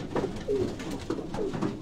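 Chapda-breed pigeon, a clear-eyed bird, cooing in soft repeated low coos, close by with faint background noise and no talk.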